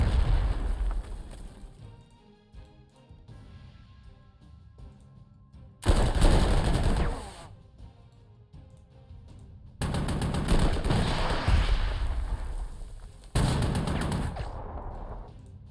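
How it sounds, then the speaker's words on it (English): Artillery fire in the Panzer Corps 2 war game comes in several loud booming bursts with rattling gunfire, separated by quieter gaps with low background sounds. "we are going to open artillery fire"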